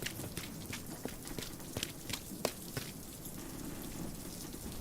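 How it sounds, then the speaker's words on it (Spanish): Heavy rain falls steadily and densely, with scattered sharper drop impacts standing out over a constant wash, played as a sound effect in a Spanish audiobook of Frankenstein. "me empapaba la lluvia, que a raudales enviaba un cielo oscuro e inhóspito"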